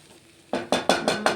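Onions and coconut powder fry in a pan while a spoon stirs them: five sharp, evenly spaced scraping strokes rise over a quiet sizzle, close by and without talk.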